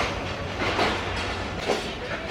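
Train drawing into platform 1 at a Pakistani railway station on the Karachi to Khanpur Tezgam route, a steady low rumble of rolling wagons with faint clattering and metallic squeal, fairly close and continuous with no voices.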